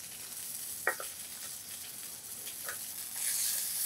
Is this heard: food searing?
yes